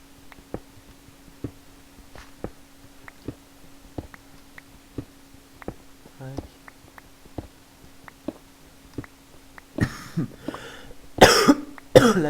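A person coughs several times in quick, harsh bursts near the end, following a stretch of quiet, regular clicking and ticking sounds.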